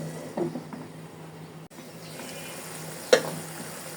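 Chapila fish curry simmers in a pan with green chillies added, giving a low steady sizzle and bubbling throughout with a brief louder clatter near the end.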